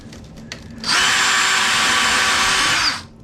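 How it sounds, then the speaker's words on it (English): A Dremel rotary tool spins up loud and close on a model U.S. Navy F6F Hellcat fighter aircraft, a steady high-pitched whine holding for about two seconds before winding down. "I might have to get my Dremel out to do this side"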